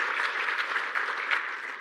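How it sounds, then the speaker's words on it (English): Applause at the Climate Resilience Symposium 2024 for donor USAID: an even, continuous roar of many hands clapping, moderately loud and unbroken, with no voices over it. "A round of applause for them"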